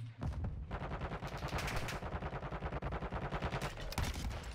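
Dense, continuous gunfire from a first-person shooter game, rapid automatic bursts and single shots overlapping for several seconds at close range, loud and sustained with no talking.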